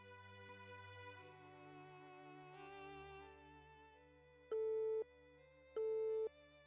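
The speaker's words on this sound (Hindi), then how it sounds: "फिर से वही बिजी टोन" A telephone busy tone: two short, steady loud beeps separated by a pause, over a low sustained musical drone.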